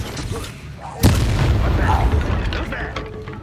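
A Confringo explosive spell in Hogwarts Legacy, one sharp loud boom that blooms into a sustained rumbling blast, with a voice speaking beneath the battle noise.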